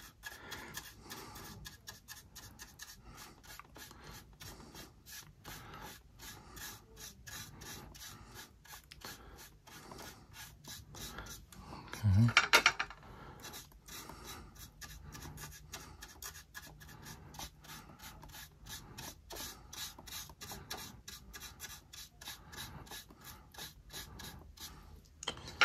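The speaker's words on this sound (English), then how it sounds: "That's my palette making that rattling noise." A paint palette makes rapid, continuous light rattling and scratching close by while a model ship hull is painted, with one louder scraping burst partway through, no talking.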